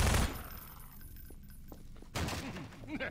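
Gunfire in the Half-Life 2 video game: a loud blast at the start, then a quieter stretch of faint clicks and thuds before another burst of game noise, with voices talking over it.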